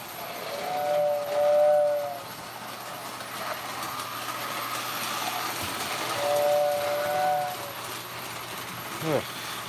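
Squeaks from a model train running on a home layout, with thin tonal squeals and a whistle-like tone repeating twice at moderate volume over steady rumble and background noise, plus a brief sharp sound near the end.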